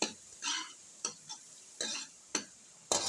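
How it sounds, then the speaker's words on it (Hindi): Onions sauté lightly in a pan, with soft sizzling and several scraping stirs of a spoon at irregular intervals, quiet and close, with no speech. "तो प्याज को हम हल्का सा भून लेंगे।"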